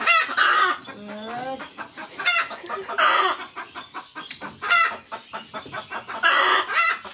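Chickens clucking up close, repeated loud bursts of clucks and cackles at uneven intervals with short quiet gaps between them, alone with no talk.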